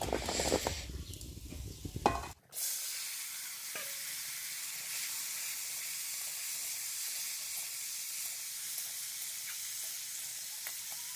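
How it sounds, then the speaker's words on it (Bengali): Vegetables sizzle in a pan over a tempering of cumin and bay leaf. After a couple of seconds of clattering stirring, a steady, close frying hiss runs on alone. "জিরে আর তেজপাত ফোড়ন দিলাম ফোড়ন করে সবজিটা বসাই"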